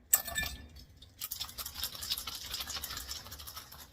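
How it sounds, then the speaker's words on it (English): Cocktail shaker mixing an old fashioned made with black walnut bitters: a sharp clink, a brief pause, then continuous close rattling and clattering inside the shaker. "I know you're not supposed to shake a old fashioned, but I like it better."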